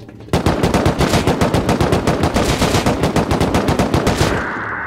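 Rapid automatic gunfire from the survival game Rust, a long sustained burst of evenly spaced loud shots that stops abruptly, leaving a faint hum.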